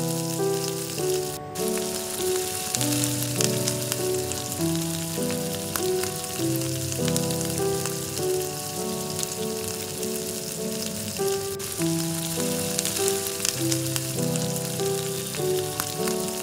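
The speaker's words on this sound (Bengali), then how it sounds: "রসুন দিয়ে কিছুক্ষণ ফ্রাই করে নেব।" Dried chillies, spring onion and garlic fry in leftover fried-chicken oil for chilli garlic chicken, giving a steady, loud sizzle that stays even throughout, with music playing underneath and no talking.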